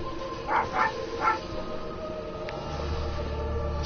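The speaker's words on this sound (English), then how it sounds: "And I apologize for my dog barking the whole time." A dog barks a few times indoors, three short muffled yips close together early on, then a steady low hum of background noise continues.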